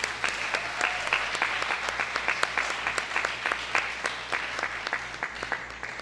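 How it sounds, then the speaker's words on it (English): Applause from the audience at a teachers' convention, a moderate, steady patter of many hands clapping without pause, fairly soft and distant. "Give yourself a round of applause."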